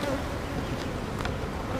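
Honeybees buzz densely and continuously at an open hive's top box, a close, steady drone with no break.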